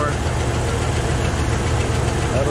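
A car engine with a fault idles rough, a low, continuous rumble with an uneven knocking beat that runs steadily at close range.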